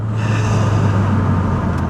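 A Ford Focus RS running a Mountune MR375 tune pulls hard under acceleration, its engine a steady, loud, close drone for about two seconds with no voices.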